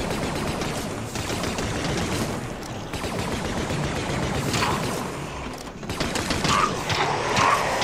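Repeated blaster fire from an E-11 stormtrooper rifle in a fan-made Star Wars zombie horror game, a dense, steady barrage of shots filling a corridor scene with a few sharper bursts near the end.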